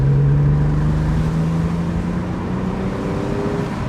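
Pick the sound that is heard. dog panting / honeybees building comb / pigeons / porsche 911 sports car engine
porsche 911 sports car engine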